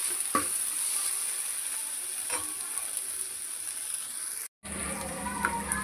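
Ginger paste frying in a pan for egg fried rice, a steady quiet sizzle close by with a few faint scrapes, briefly cut off near the end before the hissing resumes.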